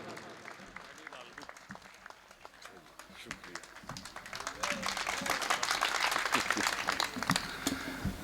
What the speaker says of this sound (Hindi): ज़ोरदार तालियों से उनका इस्तकबाल किया जाए